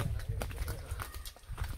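Bulls being walked downhill to a practice ground for a racing and ploughing contest in rural Konkan, their hooves giving a steady, close clip-clop rhythm over a constant outdoor hiss.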